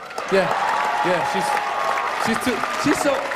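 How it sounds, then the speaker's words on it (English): Scattered applause from the crowd at a stand-up comedy show rises briefly and holds at a moderate level. A comedian keeps talking over the clapping. "People clap."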